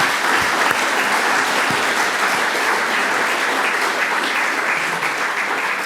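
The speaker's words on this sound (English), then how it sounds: "could everybody join with us in showing our appreciation to all the artists?" An indoor audience at an art awards opening ceremony claps steadily and loudly for several seconds, a dense continuous wash of applause with no one speaking.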